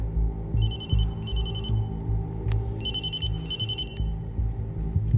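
A telephone rings with an incoming call in a tense action-movie scene, two short bursts of electronic trilling, a pause, then two more, set over a low rumbling background with no talk.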